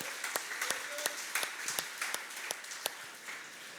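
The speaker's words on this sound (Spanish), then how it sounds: "Por favor, apláudale fuerte." Scattered applause from a church congregation, a steady patter of hands with several sharper individual claps standing out, moderately close and fairly loud, with no speech over it.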